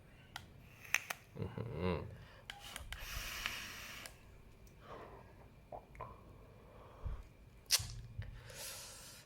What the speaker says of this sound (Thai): มาเริ่มสูบกันเลยนะครับผมฟังเสียงฟังเสียงกัน